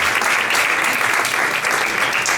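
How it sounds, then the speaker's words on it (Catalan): Steady, dense audience applause at an awards gala in Terrassa, celebrating a runner taking the lead in a race, continuous and close throughout. "Aplaudiments més que merescuts."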